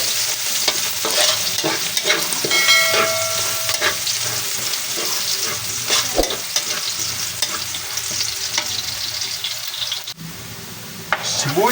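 Two heads of garlic sauté in a hot pan for a large batch of chicken afritada, producing a loud, steady crackling sizzle close by with occasional stirring scrapes and clinks, no voices present.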